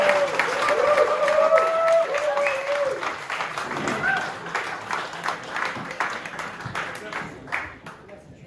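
A dinner audience at a literary event applauds panellists and speakers, a dense, sustained round of clapping that gradually thins and tapers off, with a host's voice briefly audible over it.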